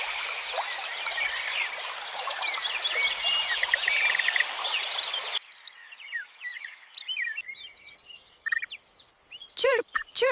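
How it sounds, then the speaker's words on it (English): Rufous Hornero calls in the wild: a dense run of bright chirps at first, then sparser separate calls, ending with a few loud, close, sharp notes. "Chirp, chirp, chirp,"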